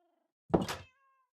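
Cat meowing inside a Minecraft world, a single short game meow rising and falling, fairly close and alone, with faint tonal game sounds before and after.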